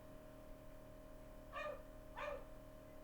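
Two quick barks from household dogs, some distance away and fairly faint, over a steady indoor hum.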